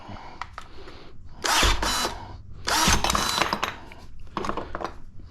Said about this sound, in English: Wonder if the old DeWalt will cut those right off.